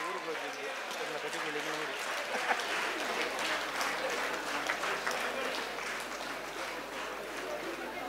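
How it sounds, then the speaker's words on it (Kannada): Loud, sustained applause from a crowd at the final of a bhajan singing competition, steady clapping filling the whole stretch without a break. "ಜೋರಾದ ಚಪ್ಪಾಳೆ ಬರಬೇಕು, ಚಪ್ಪಾಳೆ ಬರ್ಬೇಕೀಗ"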